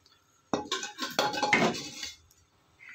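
Mutton going into a cooking pot with ghee for frying: a sudden metallic clatter of pieces and utensil against the pot, followed by a rough sizzling, scraping stir for about a second and a half before it quiets.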